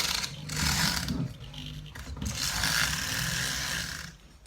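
A YZ250 power valve bore is sanded by hand with bunched-up sandpaper, giving two long, close, rasping strokes, each a second or two long, with a short pause between them.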